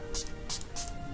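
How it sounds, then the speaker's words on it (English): Three short, soft hisses of paint spray on a painting, evenly spaced over a faint background hum. "spray a little bit, bring out some textures."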